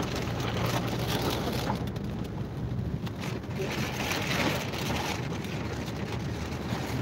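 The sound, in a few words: heavy rain on a highway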